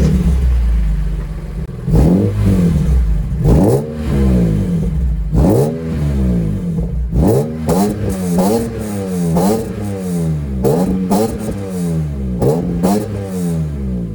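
A BMW M3 E46 engine revs hard over and over, each rise and fall in pitch loud and close. Some bursts end with clattering crackles.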